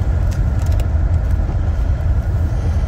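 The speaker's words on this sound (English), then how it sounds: "Whoa, I'm in the car." A steady, loud low rumble of road and engine noise fills the inside of a car, with a few faint jingling ticks near the start and no one speaking.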